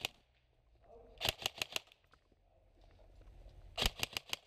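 A Lonex M4 SOPMOD EBBR airsoft rifle fires two quick bursts of about four sharp cracking shots each, close and loud against a quiet outdoor background.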